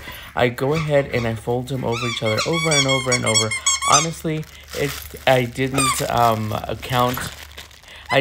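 A pet dog named Coco squeaks her toy while playing, the short, high squeaks scattered beneath steady talking and the soft crinkle of crepe paper being folded.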